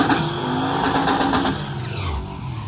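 A race car at a race week event does a massive burnout, loud and close: a sustained roaring engine with squealing tires that fades and drops in pitch toward the end, no speech.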